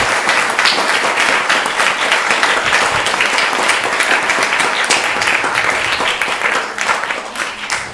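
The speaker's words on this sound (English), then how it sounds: "A big round of applause for Swami Bhakti Singh Goswami Maharaj." A temple congregation at ISKCON Phoenix gives a big round of applause for Swami Bhakti Singh Goswami Maharaj: loud, close, continuous clapping that fades slightly at the end.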